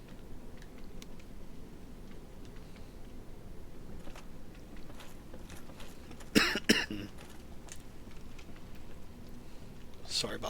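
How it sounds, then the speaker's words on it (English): Coughing from a gamer playing Dark Souls: Remastered in the Blighttown area, a short loud burst of two or three coughs midway with a fainter one near the end, over quiet game ambience. "Sorry about that, coughing."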